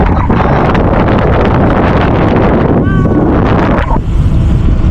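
Loud, gusty desert wind at Khiran, Kuwait, buffets the microphone in a constant roar, briefly easing near the end.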